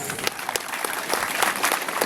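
An outdoor festival crowd at a comedian's stand-up show bursts into brisk, dense applause, many hands clapping fast and close for about two seconds.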